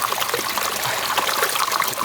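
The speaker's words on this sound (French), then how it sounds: "Voilà la douche." Shower water runs in a steady, close trickling stream, loud and unbroken, with no voices over it.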